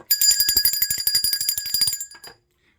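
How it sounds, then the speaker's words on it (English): A bicycle bell rings rapidly and repeatedly for about two seconds, bright and close, then stops into silence. "Let's ring a bell for that."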